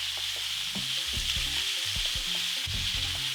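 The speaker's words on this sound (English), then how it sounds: "Leave the steak bits all alone, let them sear." Steak pieces searing in a wide pan with mushrooms and onions nearby, a loud continuous hissing sizzle close up, with low knocks and shifting sounds from the pan throughout.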